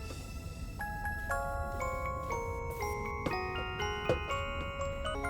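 A music box from the video game Starbound plays a slow tinkling melody of bright plucked notes over faint background noise, with no talking.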